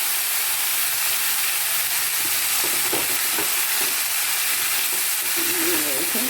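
Spinach fries with salt in a pan, giving a dense, loud, continuous sizzle and hiss, with faint stirring scrapes underneath.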